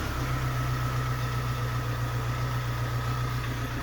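A car engine idles steadily at tick over, around 900 rpm, as a continuous low hum with a constant vibrating drone, close and loud throughout.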